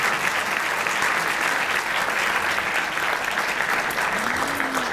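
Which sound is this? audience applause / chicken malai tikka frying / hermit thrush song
audience applause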